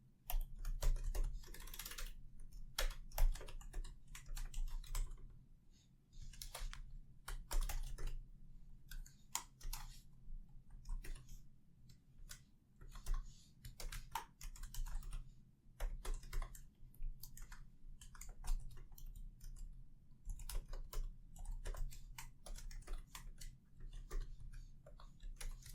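Steady typing on a computer keyboard while an API key is entered, rapid irregular clicks and key taps going on continuously at close range with short pauses, no voices.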